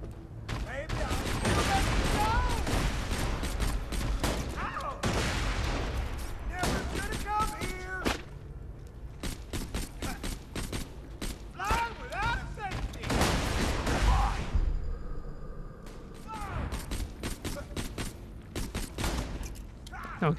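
Rapid bursts of gunfire from a weak gun in the video game Borderlands 2, volleys of shots separated by short pauses, with game effects and a player's voice talking over the action.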